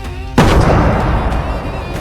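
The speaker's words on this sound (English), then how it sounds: "They chased fortune with cannon fire" A single heavy cannon blast booms loud and close, then rolls away into a long rumbling decay, a pirate-themed sound effect heard alone.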